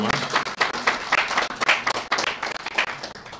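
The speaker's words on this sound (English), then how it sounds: "Let's give them a big round of applause." A business gathering applauds a team, with many hands clapping in a lively, uneven burst that pulses rhythmically and stays strong for several seconds.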